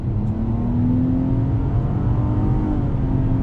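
A 2020 Nissan Maxima SL with a CVT revs up steadily and loudly under hard acceleration, its droning pitch holding high and climbing slightly, with no talking.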